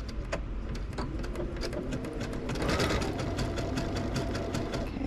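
A sewing machine stitches a zigzag test on a fabric scrap, its needle chattering in a fast, steady rhythm, loud and close throughout.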